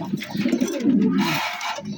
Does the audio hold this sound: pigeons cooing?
yes